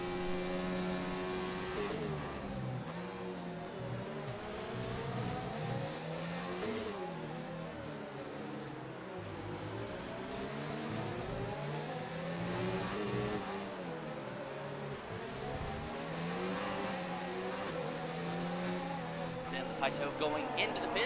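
Formula 1 race cars in a racing video game at the Mexican Grand Prix scream and rise through the gears with a sustained, layered whine, heard under continuous race commentary.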